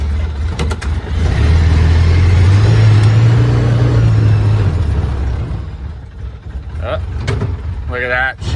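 A Polaris Ranger utility vehicle engine runs loud and close, rising in pitch as it pulls away, then settles to a rougher rumble. Brief clicks follow, and a person speaks near the end.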